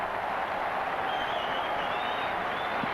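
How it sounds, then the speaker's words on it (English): Rugby stadium crowd at a 1995 New Zealand All Blacks versus Australian Wallabies match, a steady distant roar of cheering and applause filling the whole stretch, with no clear voices on top. "You can hear the crowd on the other side of the field."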